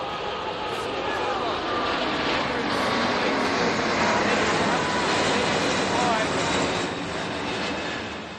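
An airplane passes over a football field during a league match, a broad, steady jet roar that fills the air, swells slightly in the middle and slowly fades.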